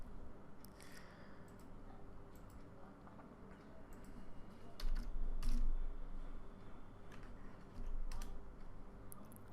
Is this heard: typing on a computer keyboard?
yes